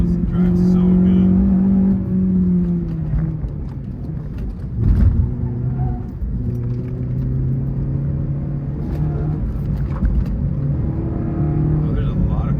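A car with winter tires drives along back roads near Portland, Oregon, its low engine rumble and road noise steady and close throughout, with a brief louder surge midway and someone talking over it.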